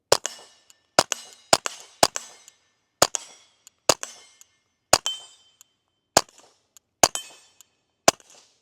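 A Ruger MKIV 22/45 Lite pistol fires subsonic CCI standard .22 rounds at steel targets: ten sharp, evenly spaced cracks, each with a bright metallic ring, spread across the span with short pauses between them.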